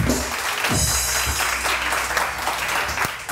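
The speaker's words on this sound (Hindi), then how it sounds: "तालियां बजाओ" Audience claps together at a live stage show, a dense wash of applause for a few seconds with brief voices breaking through.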